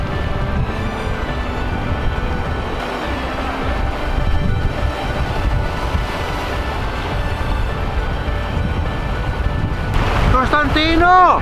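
Ocean waves roll against a beach with natural rock pools in the Canary Islands, a steady rushing wash mixed with heavy wind buffeting the microphone, ending in a brief burst of voices.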